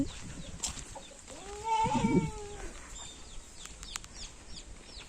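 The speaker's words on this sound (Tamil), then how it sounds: "கோழி குஞ்சு," A hen's drawn-out cluck rises midway, with thin high peeps from chicks scattered around it against quiet outdoor background noise in a village.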